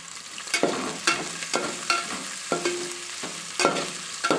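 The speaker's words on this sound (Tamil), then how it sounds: "வெங்காயம் வதங்கிறதுக்கு நம்ம கொஞ்சம் இதில் உப்பு ஆட் பண்ணி நம்ம வதக்கிக்கலாம்" Onions sauté with salt in a pan for chicken biryani, a sizzling fry under a steady rhythm of stirring strokes. The spoon scrapes and knocks roughly every half second, close and clear, with no talk.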